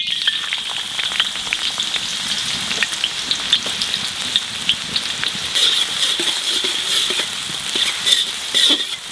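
Chopped onion frying in a well-heated wok for egg fried rice, a steady loud hiss and crackle of hot oil with scattered sharp pops, close up and continuous without speech.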